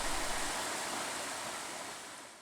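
The Water of Leith river in Edinburgh flows steadily downstream, a dense even rush of water, close and continuous, with no voices.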